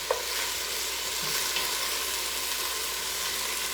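Greens fry and wilt in a hot pan, a steady, close sizzle with a faint crackle running continuously throughout and no voices.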